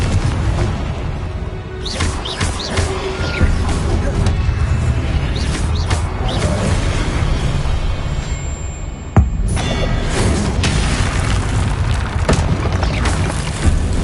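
A Confringo fire spell blasts in Hogwarts Legacy, giving loud booming explosive hits over a dense, continuous wash of game effects and rumble.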